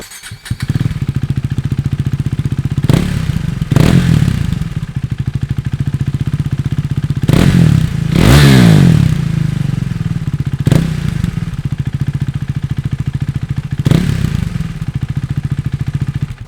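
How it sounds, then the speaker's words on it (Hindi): A motorcycle with its dB killer removed, its exhaust revving repeatedly in loud, deep bursts over a steady, thumping idle, heard close up with no talk. "So now we are going to record it without the DB killer and let's see how it sounds."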